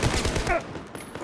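Rapid automatic gunfire rattles in the shooter Battlefield 4, a quick burst of close shots lasting under a second before fading into ambient battle noise.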